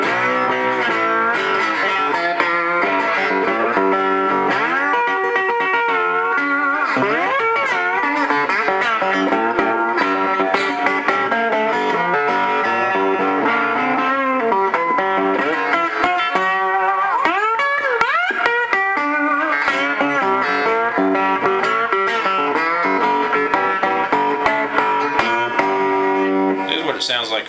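A twangy cigar box guitar played with a glass slide gives a continuous bluesy line with sliding pitch bends, its tone slightly overdriven and reverberant throughout.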